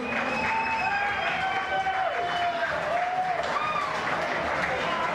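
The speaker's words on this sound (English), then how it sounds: "You can hear them cheering his name here in the crowd." A crowd at the 2014 World Racquetball Tour Juarez Grand Slam final roars steadily with cheering, whistles and applause, a loud, dense wash of noise that holds for the whole stretch.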